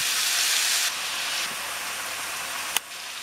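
Pork steak browns in a hot pan, giving a steady, close sizzling hiss that eases slightly partway through, with a single sharp click near the end.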